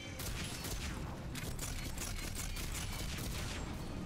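Rapid gunfire from a Mass Effect 3 firefight crackles in dense, overlapping bursts, loud and continuous with sharp repeated shot transients and clattering mechanical noise throughout.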